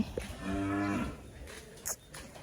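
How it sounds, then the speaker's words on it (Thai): Cow on a farm giving one drawn-out moo lasting about a second, close and clear, followed by quieter farmyard background noise. "พาไปดูวัวตัวน้อยๆนะคะทุกคน"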